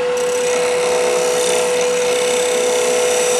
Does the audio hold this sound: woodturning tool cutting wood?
yes